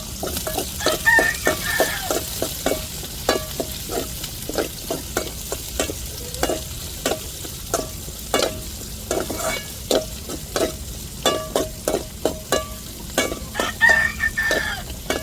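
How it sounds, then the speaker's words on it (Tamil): Curry leaves frying in hot oil for fenugreek curry, stirred with a spoon: a steady sizzle runs under dense rapid scraping and clinking strokes, close and moderately loud, with no voices. "இப்போ கருவேப்பிலை சேர்த்துக்கிடுவோம்"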